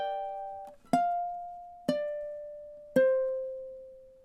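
Ukulele plays two measures of the MASH theme: a ringing chord fades into three single plucked notes at even intervals, each sustaining and decaying, played up close with no voices.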